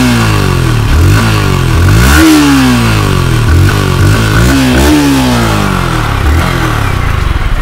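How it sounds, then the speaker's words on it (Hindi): A Yamaha R15 V4 motorcycle engine revving up and down several times at close range, loud and steady, with rising and falling pitch sweeps and no talking. "कितनी ज़्यादा स्मूथ एंड कितनी ज़्यादा मस्त आवाज़ है बाइक की"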